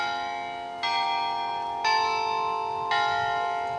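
A large bell rings with clear, sustained metallic overtones, struck three times at a steady, slow pace roughly a second apart. Each stroke rings out loud and close, with no voices.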